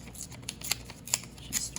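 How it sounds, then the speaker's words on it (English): Coffee-dyed paper is torn by hand in short bursts, giving several quick, close crinkly rips against a quiet background. "Just ripping."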